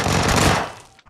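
A double-barrel shotgun fitted with a choke firing in the video game PUBG, a single loud, close blast with a short decaying tail.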